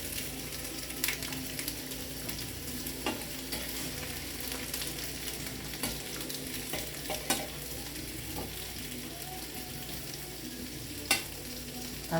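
Potatoes fry and brown in a skillet with a steady, quiet sizzle and occasional soft scrapes and clicks of stirring, close by with no voices.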